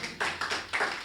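Clapping from a kavi sammelan poetry recital audience, three short bursts of applause in quick succession, moderately loud with no speech.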